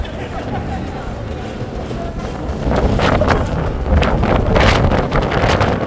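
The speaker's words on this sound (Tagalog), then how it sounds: "Grabe, lakas ng hangin guys." Strong wind roars and buffets the microphone, growing louder and gustier midway, with faint voices in the background.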